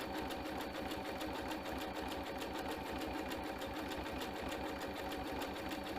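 A sewing machine runs steadily at speed while stitching coiled rope into a bowl, its needle giving a fast, even, continuous rattle up close with no talk.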